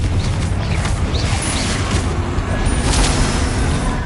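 Confringo blasting spell explosion in the Hogwarts Legacy video game, a dense, loud booming roar filling the whole clip with continuous rumble and crackle, no clear separate blasts.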